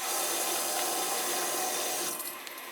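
Water rushes steadily out of a leaking home boiler being drained, a loud, continuous hissing flow that eases slightly near the end.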